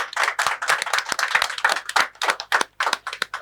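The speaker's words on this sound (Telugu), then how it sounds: "క్లాప్స్ తోటి దీన్ని వెల్కమ్ చేద్దాం." An audience claps together to welcome the launch of a free educational app at a launch event, a dense run of close, loud handclaps lasting a few seconds with no talk.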